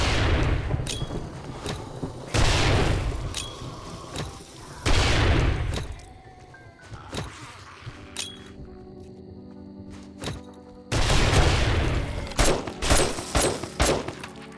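Contact grenades bursting in 7 Days To Die: several heavy booming detonations at intervals, mixed with rapid sharp gunshot cracks and quieter gaps carrying tonal game sounds, near and loud.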